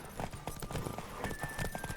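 Rapid clip-clop of horse hooves galloping in The Witcher 3 video game, steady and fairly close over a busy background of game music and effects.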